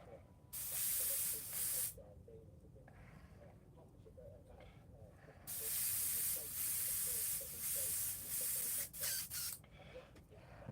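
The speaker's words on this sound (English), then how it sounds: "when I'm done airbrushing, I always put it away clean" An airbrush being cleaned sprays in loud bursts of hiss, several long blasts separated by quieter pauses with faint background noise, no talking.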